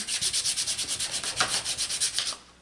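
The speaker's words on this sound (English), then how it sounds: "I am just going to kind of rough it up, and I just use a little emery board that I have" Emery board rubbing back and forth over a glossy MDF letter shape, about two dozen quick, even sanding strokes in a steady rhythm, close and clear, ending abruptly.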